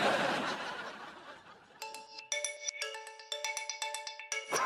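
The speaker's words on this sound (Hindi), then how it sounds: "मेरा ही फोन बज रहा है।" A bright, tonal ringtone chimes in repeated melodic bursts, loud and close, following a stretch of muffled background noise.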